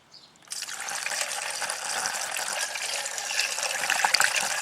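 Water poured through a funnel into a car's coolant reservoir during a coolant flush, a steady close splashing gush that starts abruptly and runs unbroken, growing slightly louder toward the end.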